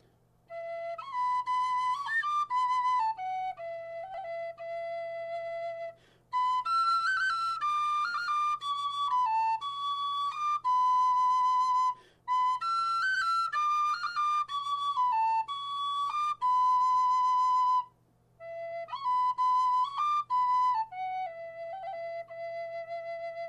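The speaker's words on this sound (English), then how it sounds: "Would you play your penny whistle?" Penny whistle playing a slow, sad melody of sustained clear notes in several phrases separated by short pauses, close and alone over a faint low hum.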